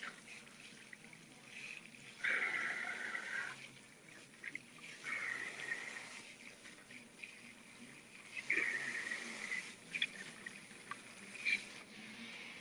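Water from a sink tap splashes and trickles while a person's hair is soaked through, faint and uneven, swelling and easing as the hair moves under the stream, with no voices.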